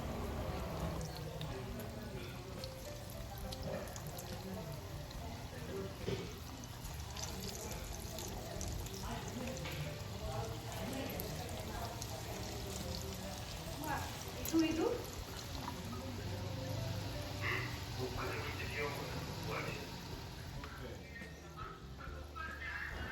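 Parippu vada lentil fritters deep frying in hot oil on a high flame give off a steady, dense crackle and bubbling throughout, with a voice speaking at times.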